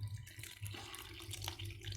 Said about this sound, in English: then you're gonna pour your water inside.